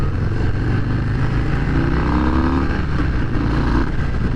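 A 2023 Harley-Davidson Breakout motorcycle pulls away as the clutch is let out, its low engine rumble steady and close, rising slightly in pitch as it begins to roll.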